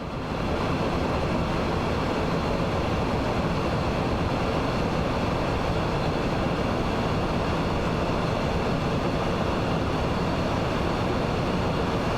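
A DB BR 642 diesel railcar running on the Maintalbahn in Train Sim World, a loud steady rumble and drone with constant wheel noise and faint tonal hum, unbroken throughout, with no talk.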